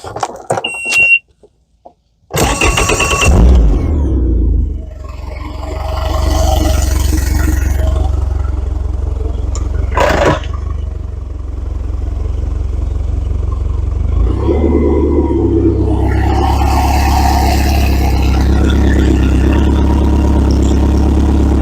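An outboard boat engine on flushing muffs cranks over and catches, then settles into a steady, loud idle with a low rumble that carries on to the end, a rough clattering note running through it.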